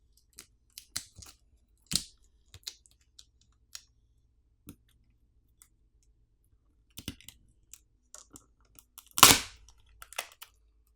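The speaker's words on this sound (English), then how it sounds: "there's a pull pouch provided to help you pry the battery off" Prying the battery out of a Samsung Galaxy A05 with a pull pouch produces scattered small clicks and snips, with a couple of louder crackling peels near the start and end, close and sparse over quiet.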